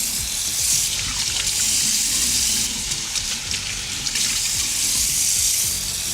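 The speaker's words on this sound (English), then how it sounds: "I'm really washing my face for you guys" Running water splashes at a bathroom sink as someone washes their face, a steady close, fairly loud flow with irregular splashing and no talking.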